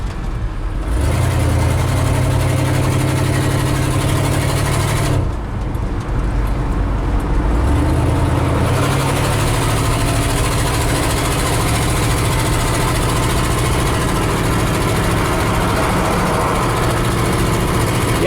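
A car engine with a freshly rebuilt Motorcraft 2100 carburetor runs steadily while driving on the expressway, a loud continuous drone with low rumble and shifting pitch as the revs change, no voices.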